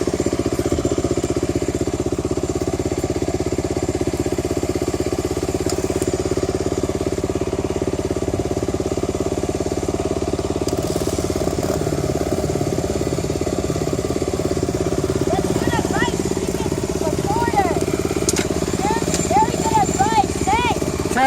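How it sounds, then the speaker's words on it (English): Dirt bike engine running at idle on a trail outing in Johnstown, a steady low rumble throughout with voices talking over it and a higher revving tone rising near the end. "Okay, start your bike."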